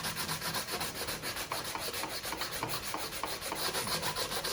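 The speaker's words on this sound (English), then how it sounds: "I want to sand these edges here" Wooden flag edges being sanded by hand, a steady close scratchy rubbing that continues without a break.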